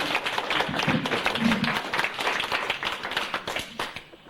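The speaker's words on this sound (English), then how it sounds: "I think we owe a nice applause to this gentleman" A small group claps for a presenter at a talk about an old world gasthaus, with crisp, close hand claps forming a steady, moderately loud patter and a brief murmur of voices partway through.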